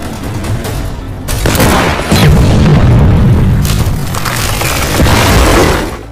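Heavy, close explosions from a mortar attack in a war film, booming on and off in a sustained roar with debris-like rumbling that fades near the end.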